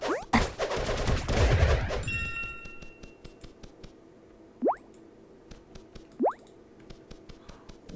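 Ranger charge shots fired in the Cube World video game during a castle invasion: a dense burst of loud crackling fire at the start, then two short rising zaps alone over faint ticking.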